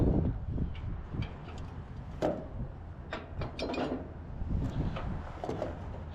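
Ratchet straps being cranked tight on a farm, a run of clicking ratchet ticks and mechanical clacks over steady low background rumble, close and fairly loud.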